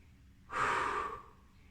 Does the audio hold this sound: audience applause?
no